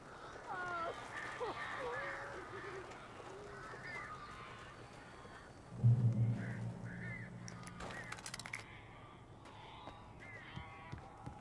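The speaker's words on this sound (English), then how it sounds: "These birds are weird." Crows caw in the Alan Wake video game, giving scattered harsh calls over a low background hum. A louder burst of noise arrives partway through, and faint voices may sit under the birds.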